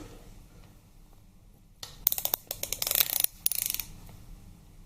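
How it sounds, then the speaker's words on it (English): A torque wrench tightens Harley Twin Cam bolts at close range, giving a quick burst of sharp ratcheting clicks that end in a few louder clicks, over a quiet workshop background. "now these bolts tighten up to 12 Newton meters, so I'll just grab my torque wrench"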